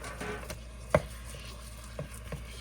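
Cold Shamrock Farm ground turkey, 2.5 pounds, goes into a pan with a few soft wet thumps, then gentle sizzling and stirring while the meat starts to cook.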